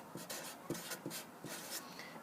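Pen writing on paper, labelling a strip measured with a graduated ruler, comes through as short, quiet scratching strokes in irregular bursts, close and faint, with no talk.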